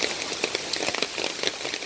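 Rain falling in Hong Kong at the start of winter, a dense steady patter of drops hitting surfaces close by, with no voices.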